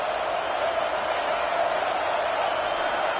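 A college football stadium crowd at a South Carolina versus Michigan game cheers in a steady, dense roar that holds at an even level throughout.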